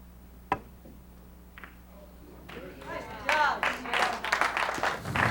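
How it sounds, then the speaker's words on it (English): Crowd at a 2006 San Diego Classic pool semifinal cheers and yells, a sharp ball click early on, then rising claps and shouts building loud over the last few seconds. "Crowd yelling out, nice job, Sarah."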